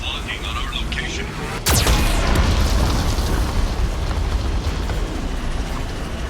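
A loud boom from a Geth cannon blast in the video game Mass Effect 2 hits suddenly, followed by a rumbling, crackling roar that continues under low background noise.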